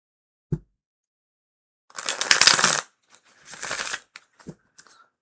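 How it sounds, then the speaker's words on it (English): A short tap, then two brisk riffles of a tarot deck close by, followed by a few soft clicks as the cards settle. "Ooh, lovely shuffle."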